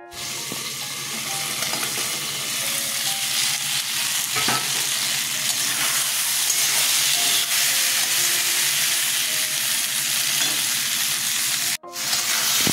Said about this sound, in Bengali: বেগুনটা ভাজা হয়ে গেছে, উঠিয়ে নেব।